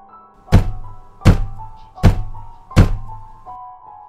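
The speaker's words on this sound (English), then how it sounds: "I can still hear the muffled intermittent thuds at the front door below." Four muffled, evenly spaced thuds of knocking at a front door, heard from a distance below with a hollow, dull quality and steady rhythm.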